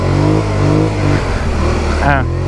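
A Polaris Scrambler 1000S side-by-side UTV engine hums and revs steadily up close, its pitch rising and falling, with someone talking over it.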